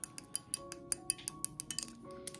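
A glass oil dispenser bottle with a butterfly top is handled, giving repeated light, bright clinks and taps in an irregular rhythm, close and fairly quiet over a faint low hum.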